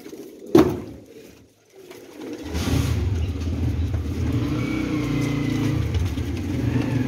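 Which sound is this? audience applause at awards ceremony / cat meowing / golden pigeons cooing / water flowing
golden pigeons cooing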